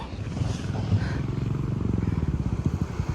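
A motorcycle engine thrums close by on a road in Assam, its low pulsing rumble growing steadier and more rhythmic as it approaches, with faint voices in the background.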